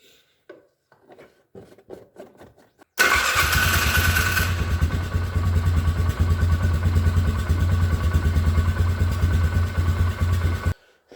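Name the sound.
2010 Polaris Sportsman 500 HO ATV engine running, warming up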